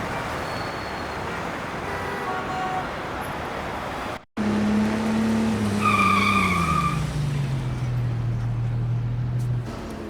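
A car in a James Bond spy video game pulls away toward the docks, engine tone rising then settling into a steady drone with a brief tire squeal, close and alone.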